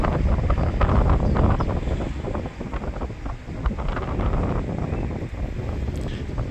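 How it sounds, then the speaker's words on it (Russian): A fairly large motor boat passes on a canal: a low rumbling engine and wash sound close by, with buffeting wind noise on the microphone throughout. "Только что прошел катер довольно большой."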